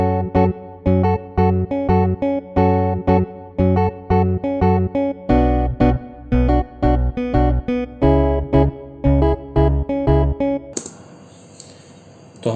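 A mono guitar part recorded for a song plays loud and upfront, with punchy, rhythmic strummed chords in quick repeated bursts that stop abruptly near the end into a brief noisy tail.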